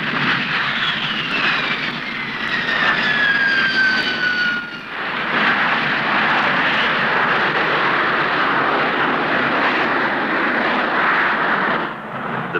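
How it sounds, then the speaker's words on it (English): Hawker Siddeley P1127 jump jet with a Bristol Siddeley Pegasus engine at a 1960s Farnborough airshow, a loud, steady jet roar with a descending whine early on, sustained and close, with no voices over it. "the Hawker Siddeley P1127 is hard to beat. Powered by a Bristol Siddeley Pegasus PS53 engine"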